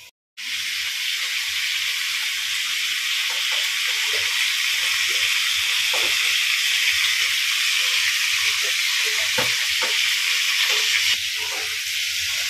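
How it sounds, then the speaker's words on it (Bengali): Eggplant slices frying in a pan in a home kitchen, giving a loud, steady sizzle and hiss that holds throughout with faint crackles and no talk. "ধোকা রেডি হচ্ছে, আর এখানে ভাজাটা বসিয়ে দেবো,"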